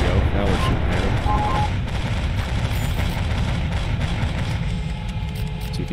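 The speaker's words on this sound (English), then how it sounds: "There we go. Now we're shooting at him." A warship's forward gun battery fires in the naval game Capital Command, a loud, dense barrage of heavy booms and rumbling blasts sustained throughout, with a voice talking over it.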